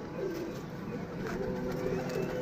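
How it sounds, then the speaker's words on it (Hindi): Pigeons coo softly and steadily in a flock while feeding on grain, a low burbling murmur under constant background noise, with faint voices nearby. "कबूतर अब दाना खा रहे हैं"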